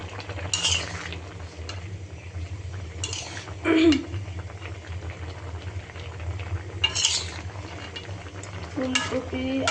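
Fish curry with potato, tomato and cauliflower cooking in a pan, a low steady simmer with several sharp clinks of a spoon or spatula against the pan scattered through.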